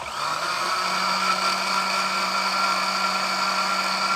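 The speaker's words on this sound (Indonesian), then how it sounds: "kemudian di blender lagi." A blender whirs steadily as it blends a honey drink until smooth, a continuous motor drone that starts up and holds an even pitch throughout, loud and close with no talking.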